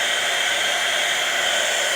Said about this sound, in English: Don't get too close to your actor's face with the hairdryer